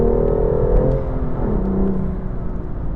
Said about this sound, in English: The way it reverberates through the cabin, it's got this real deep, sonorous tone.